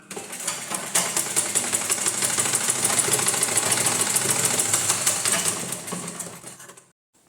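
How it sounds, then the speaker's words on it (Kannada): A sewing machine stitches blouse fabric in one continuous burst of fast, even mechanical whirring and clatter lasting several seconds, close and loud, then winding down and stopping. "ಇದೇ ಥರ ಬಟ್ಟೆನ ಈ ಥರ ಉಲ್ಟಾ ಮಾಡಿ ಇನ್ನೊಂದು ಸ್ಟಿಚ್ ಹಾಕೋಣ"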